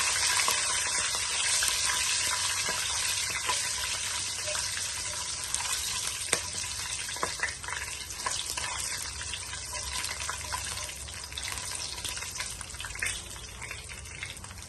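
Spices sizzle in hot oil as a tempering for dal, giving a steady, bright frying hiss with small crackles throughout, close and continuous.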